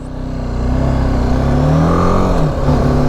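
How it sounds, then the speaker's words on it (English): A BMW G310 GS with a four-stroke, water-cooled single-cylinder engine revs up from idle into a steady, loud, close drone and holds it with a slight dip near the end, with no talking. "give it a little bit of revs to get it going"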